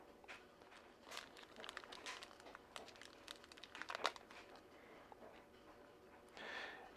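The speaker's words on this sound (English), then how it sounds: "trying to get the sight out of the little plastic bag" Small rifle rear sight being worked out of a little plastic bag, with close, irregular crinkling and rustling bursts of the thin plastic, a few sharp crackles and a louder rustle at the end.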